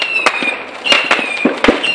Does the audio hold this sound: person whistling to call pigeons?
no